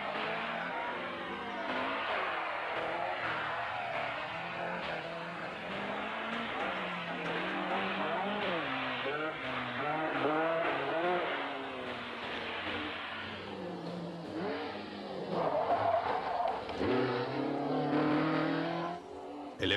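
1970s rally cars, including a Lancia Stratos, race on slippery asphalt, engines revving hard and howling through gear changes as cars slide sideways and pass, loud and continuous throughout.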